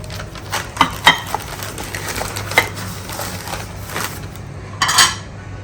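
Ceramic plates handled and stacked while packing up kitchen things in an old house: scattered sharp clinks and knocks of crockery against crockery, a few clustered together, over a quiet room.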